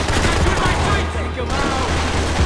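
Rapid gunfire in the Max Payne 3 video game, loud and continuous automatic bursts with shouted voices mixed in during a firefight.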